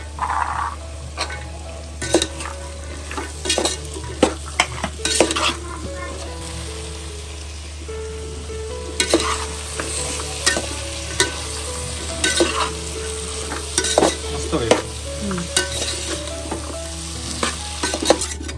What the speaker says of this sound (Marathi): चांगलं शिजवून फ्राय करून घेऊया वाटाणे मटार